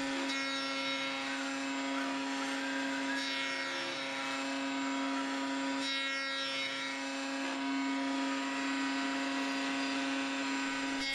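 A router spins steadily while cutting wood for a serving dish, giving a continuous, loud, even whine with no pauses and no talk.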